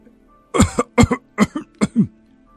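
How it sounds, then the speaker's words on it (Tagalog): A series of five sharp coughing bursts, some doubled, close and loud, with brief gaps between them and no talking. "Aba, di pa tayo nagsisimula. Inuubo ka na."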